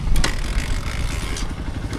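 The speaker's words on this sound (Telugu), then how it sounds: "కిక్ కొడితే స్టార్ట్ అయిపోతుంది మన బండికి" An XPulse 200 motorcycle is kick-started, its engine catching after a couple of sharp mechanical clacks near the start, then idling with a low, steady rumble close by, on a Ladakh ride.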